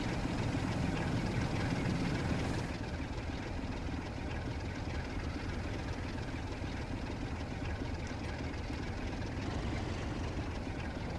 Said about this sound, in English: Oh, it accelerates quick for an old diesel.